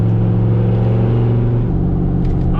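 A Pontiac GTO engine idles and revs after an exhaust leak repair, giving a steady deep rumble with a smooth tone and no ticking, close and loud, easing slightly toward the end.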